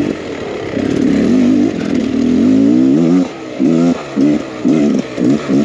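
A 2023 Beta X Trainer 300 two-stroke enduro bike climbs a trail, its engine roaring and revving hard, then snapping through a series of short, choppy throttle blips, close and loud.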